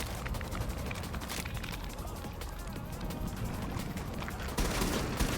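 Dense, continuous gunfire in Helldivers 2, rapid overlapping shots and bursts with a heavier burst near the end, loud and constant throughout with a faint voice beneath.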